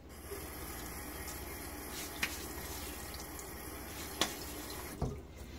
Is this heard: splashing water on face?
yes